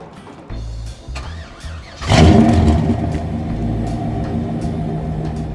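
A Buick Roadmaster with an LT1 V8 cranks over and fires at about two seconds, then settles into a loud, rumbling idle with rising revs, close by and alone after a short stretch of quiet low hum.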